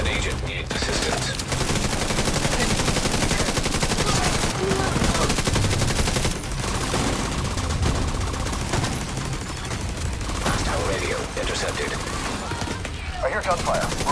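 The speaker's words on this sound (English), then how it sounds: "I hear gunfire." Sustained bursts of automatic gunfire in The Division 2 rattle almost continuously, loud and dense, with brief gaps between volleys.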